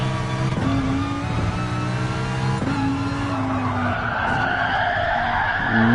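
Lamborghini cars in a racing video game skid and slide with long sustained tire squeals over a steady, loud engine roar, the screech rising and falling in pitch, close and continuous, with no speech.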